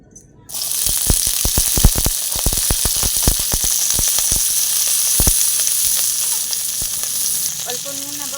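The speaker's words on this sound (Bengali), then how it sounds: "কড়াইতে অল্প তেল দিয়ে পেঁয়াজ ছাই এবং আলু আলাদা আলাদা করে ভেজে নেব।" Onion stalks and potatoes fry in a little oil in a wok, giving a steady loud sizzle broken by sharp crackles and pops, with stirring near the end.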